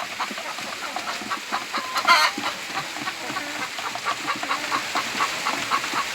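A flock of about 100 to 120 laying hens clucks continuously nearby, overlapping chatter with one louder squawk partway through.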